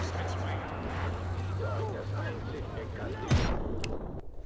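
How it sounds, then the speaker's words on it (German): An exploding car in the Just Cause 3 video game, a sudden sharp blast bursting out after several seconds of low engine hum and busy game noise, with someone talking throughout. "Ich glaube, das Auto ist leicht explodiert."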